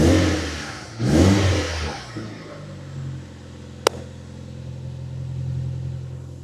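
A Toyota Celica GT-Four engine idles steadily after a brief rev, with a sharp click partway through and no talking.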